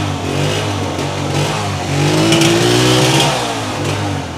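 A used Honda 125 motorcycle engine revs up close, its steady rumble rising and falling once before settling back down.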